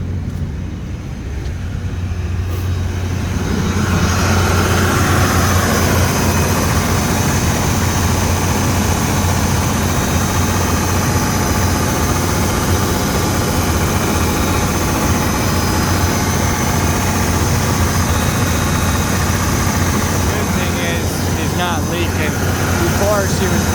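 A Cummins 8.3 industrial diesel engine runs steadily while warming up, a continuous low, heavy drone that holds an even level from start to finish after a quieter first few seconds.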